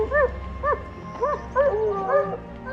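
Hunting dogs on a wilderness trail give a series of high, yelping barks and yips in quick repeated bursts, fairly close and clear against quiet outdoor background.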